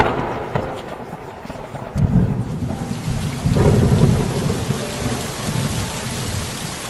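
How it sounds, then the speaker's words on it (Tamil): Heavy rain pours steadily throughout, with deep rumbles of thunder swelling in the middle and fading out, loud and close with no voices. "ஒரு நாள் அந்த பகுதியில நல்ல மழை பெஞ்சுது"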